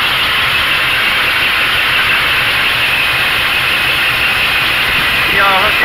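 A Ford Ranchero engine fitted with a Holley 2300 two-barrel carburetor idles, a loud, steady, even rumble and hiss that holds unbroken close by.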